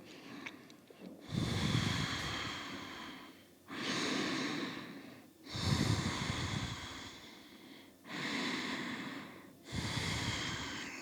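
Slow, deep breathing during a gentle morning vinyasa yoga session, with five long breathy inhales and exhales in an even rhythm, close to the microphone, with no talking.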